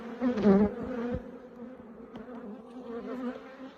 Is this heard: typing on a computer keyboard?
no